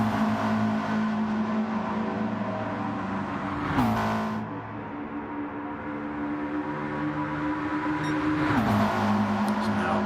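GR4 race cars in a racing video game drone steadily through a final corner, their engine notes shifting pitch as they pass and accelerate, with commentary voices talking over the engine noise throughout.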